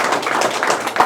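An audience at a felicitation ceremony for a newly elected MLC applauds in a short, continuous wash of many hands, loud and close with no talk.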